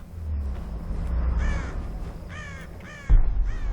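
Crows cawing in the Tomb Raider video game, several harsh calls in short bursts over a low rumbling ambience, followed by a sudden loud thump near the end.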